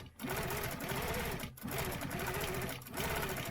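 A sewing machine stitches a quilting stencil design in fast, steady runs, pausing briefly twice, loud and close with no talk over it.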